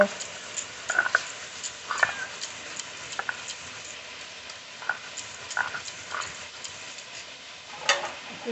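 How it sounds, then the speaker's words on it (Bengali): Spice paste is ground by hand on a grinding stone, with a quiet gritty scraping bed punctuated by sharp irregular knocks and clicks of stone on stone, close up. "মশলাটা বেটে নেব"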